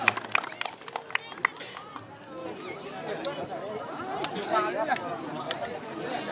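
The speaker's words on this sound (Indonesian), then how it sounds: "Tepuk tangan untuk kedua kesebelasan" Scattered handclaps ring out at a Karang Taruna Cup village youth football match, a few sharp claps at first that give way to crowd chatter and voices talking nearby.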